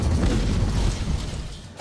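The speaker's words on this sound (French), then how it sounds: "J'ai entendu comme une explosion, une sorte de coup de tonnerre" A sudden explosion like a thunderclap heard near an Italian fishing spot as a BOAC Comet airliner crashed, a dense, loud, rumbling boom that fills the moment and fades slightly at the end.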